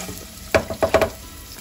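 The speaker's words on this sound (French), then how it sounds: "je mets les oignons à cuire" Onions cooking gently in a pan over lowered heat, a soft steady sizzle broken by a few quick scraping stirs in the middle, close and fairly quiet with no talking.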